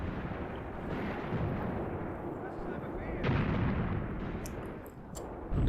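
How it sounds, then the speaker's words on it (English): Mortar fire in the war game Graviteam Tactics, a dense rumbling barrage of distant blasts and thuds rolling on continuously, with a sharper impact partway through, at moderate volume. "we've got mortars, I think they're ranging in there just now"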